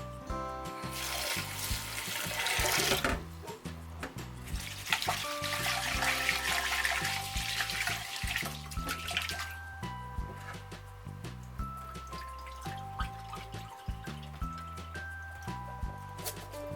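Sushi rice being rinsed under a running tap in a kitchen sink, a steady splashing stream with intermittent drips and wet squishing as the grains are stirred, fairly close and continuous with no talk.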